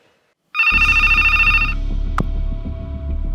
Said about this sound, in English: His phone rings.